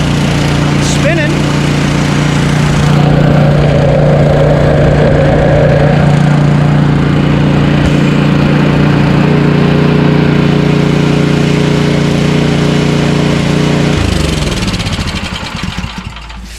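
An Ariens Sno-Tek 24-inch two-stage snowblower engine runs steadily with its auger and impeller spinning, a loud continuous mid-pitched drone with a faint mechanical whine, tapering off near the end.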